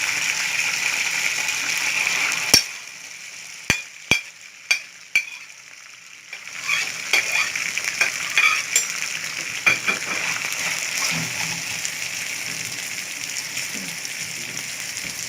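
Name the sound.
frying onions in a pan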